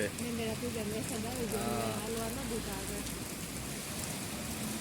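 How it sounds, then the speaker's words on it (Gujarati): Steady, dense heavy rain noise fills the whole stretch, with voices murmuring underneath partway through. "ભાઈ જોરો સોરોથી વરસાદ ચાલુ થઈ ગયો છે"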